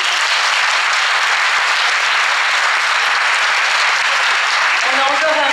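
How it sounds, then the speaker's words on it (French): Loud, sustained applause from a pageant audience at the Miss Côte d'Or 2023 election, dense clapping throughout with a voice starting to speak near the end. "s'il vous plaît, tous vos applaudissements."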